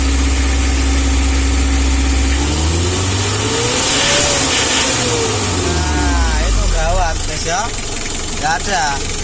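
A Mitsubishi L300 engine idles and then revs up and down in long sweeping rises, loud and close, while people talk and shout over it.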